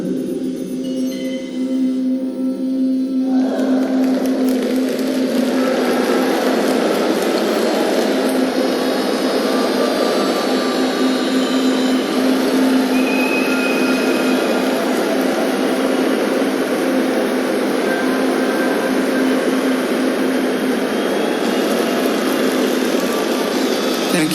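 A drone flies onto a stage at a live event, giving a steady, loud buzzing whir with a constant low hum that swells after a quieter opening and holds for the rest of the clip. No one speaks.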